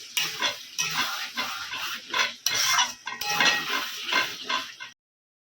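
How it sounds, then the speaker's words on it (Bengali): Mutton is stirred and fried in oil in a pan for Bengali mutton kosha. Close, continuous sizzling mixes with scraping strokes of a spoon against the pan, then stops abruptly. "ভালো করে কষানো মটনটা।"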